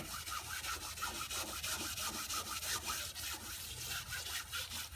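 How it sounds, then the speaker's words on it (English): Steady, continuous scraping of steel wool rubbed back and forth over a boat's wooden surface to remove white film deposit, close and even in rhythm, with no voices. "I think the steel wool's actually sanding the surface a bit here"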